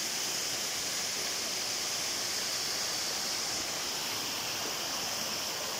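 Kinagahran Falls on Bohol Island, a mountain waterfall flowing into a river, producing a steady, even broadband rush of water with no voices or other sounds.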